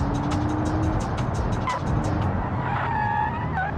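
Car engine roaring at speed with tires skidding and squealing in the BeamNG.Drive driving game, a test of a basic car build on high-speed sections, loud and continuous with rhythmic engine pulses, then screeching tire squeals near the end.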